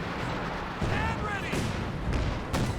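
Artillery fire in Company of Heroes 2, with dull thuds and booms from Soviet guns landing amid constant battle noise, partly under a commentator's voice.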